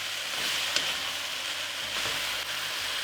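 Beef and broccoli stir-frying in a pan, with a steady, close, loud sizzle throughout and a single sharp utensil tap early on.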